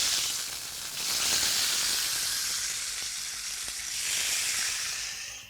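Beef searing in a hot pan for ramen: a loud, close, hissing sizzle that swells and eases in broad waves, with a faint clink or two and no talking.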